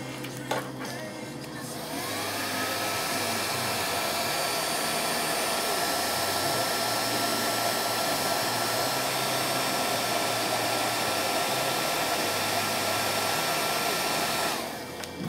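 A heat gun blows steadily to shrink heat shrink tubing over spliced wires, a close, loud continuous fan roar that starts after a brief pause and runs unbroken until it cuts off at the end.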